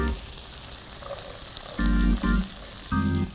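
Chicken sizzling in a pan as celery goes in, with a steady frying hiss broken by a few heavier low thumps and bursts as the pan is tossed or stirred.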